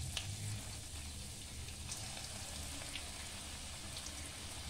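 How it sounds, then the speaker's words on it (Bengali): Cabbage pakoras sizzle steadily in hot mustard oil in a small kadai, a dense, even crackle and hiss with no talking. "এবার ছোট ছোট পকোড়া মতো করে দিচ্ছি"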